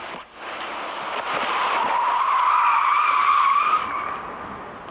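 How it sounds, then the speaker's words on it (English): A car slides and skids on a driving-training course as a learner practises fast lane changes, the tires squealing in a rising, sustained screech that peaks and fades over a few seconds. "that the car starts sliding."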